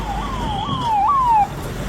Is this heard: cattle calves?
no